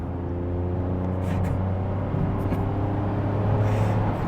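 A Toyota Aygo engine with a torque converter automatic hums steadily from inside the car as the gas pedal is pressed, a low constant drone rising only slightly toward the end.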